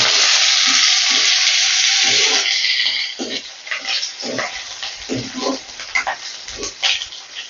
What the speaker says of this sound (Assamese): পিঁয়াজখন অকণমান ভাজি লৈছোঁ মই